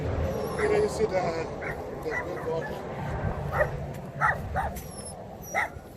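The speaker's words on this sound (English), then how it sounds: "Oh, guys, we see a dog up here, so we're gonna check it out." A dog barks and yips in short bursts on an outdoor nature walk, close by, with people talking over it.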